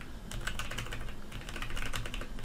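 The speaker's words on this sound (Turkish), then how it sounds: "Şu an klavye sesi evet size çok fazla geliyor." Fast, steady clatter of a computer keyboard during an online game session, with dense overlapping key clicks close to the microphone and no talking.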